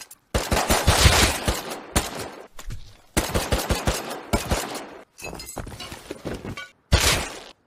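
Bursts of gunfire in the survival game Rust, rapid repeated shots and sharp cracks in clusters separated by brief pauses, loud and close with no talk.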